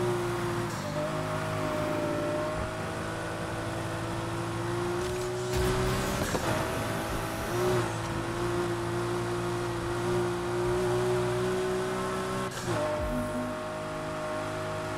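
Steady, continuous car engine rumble in the video game Need for Speed Heat, a sustained tonal drone with occasional revving swells, loud and constant throughout with no talking.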